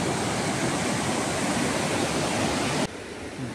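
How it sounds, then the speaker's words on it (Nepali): The Bolung river flows in Okhaldhunga district of Nepal, a dense, constant rushing of water close by, loud and unbroken, dropping slightly in level near the end. "ओखलढुङ्गा जिल्लाको सबभन्दा ठुलो खोलो पर्छ यहाँ चाहिँ"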